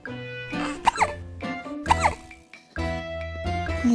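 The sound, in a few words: kitten hiccuping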